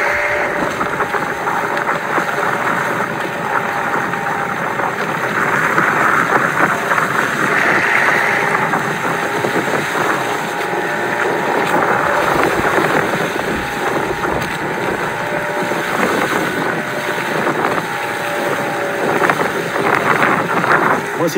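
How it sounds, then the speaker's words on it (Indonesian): A small boat out at sea is battered by huge waves, its engine repeatedly stalling, with a continuous loud roar of wind buffeting the mic and crashing water, and occasional voices underneath. "Dalam perjalanan ke darat kami dihantam ombak yang sangat amat dahsyat."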